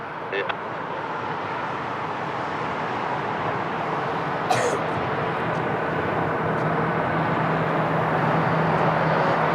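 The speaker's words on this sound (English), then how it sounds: "the next one to land, it's the big boy of TAP Portugal, Airbus A320neo, all the way from the new airport of Luanda" A TAP Portugal Airbus A320neo arriving at Lisbon Airport, with a steady broad jet roar that builds slowly and holds loud over distant ambient noise.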